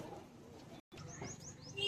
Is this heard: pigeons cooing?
yes